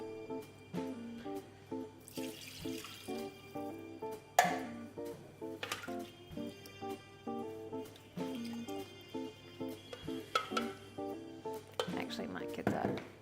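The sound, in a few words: stirring food in a pan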